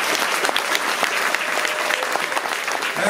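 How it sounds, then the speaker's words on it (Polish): Audience applause at a festival opening, a dense steady wash of many hands clapping that holds at an even level for the whole stretch without pause, with no voices standing out over it. "wielkie brawa dla tych, którzy już są tam za sceną,"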